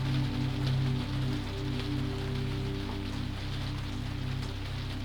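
Evening rain falls over the French countryside as a soft, steady patter of drops under a low, constant hum, quiet and even throughout.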